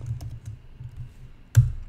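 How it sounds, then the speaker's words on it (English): Fast keystrokes tapped on a computer keyboard while entering an email destination and message, a steady patter of light clicks with one louder key strike near the end, close and alone. "now we can go ahead and start typing in the specific destination and the message"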